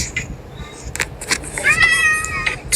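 A video game cat meows a few times, short bright mewing calls rising near the end, mixed with brief game sound effects and clicks.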